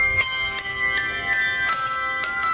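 Church bells ring repeatedly at a steady pace, each bright metallic strike leaving long overlapping harmonic tones, fairly close and loud with no talking.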